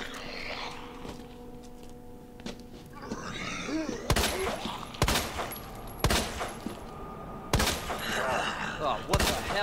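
Handgun fire in the Resident Evil 2 VR video game: several sharp, loud shots in an irregular burst in the second half, following quieter in-game ambience and some thuds.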